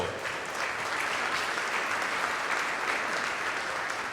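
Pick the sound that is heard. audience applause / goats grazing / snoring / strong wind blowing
audience applause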